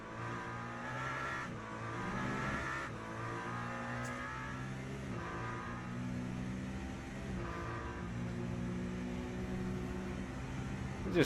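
Race cars in Le Mans Ultimate roar past at speed, their engines droning and revving in a steady, layered whine with shifting pitch as the pack streams by, and no voices.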